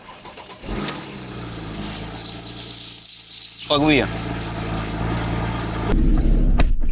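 A Porsche with its stock exhaust starts and settles into a steady, warm idle, a low even drone with a brief rev, while someone speaks briefly over it.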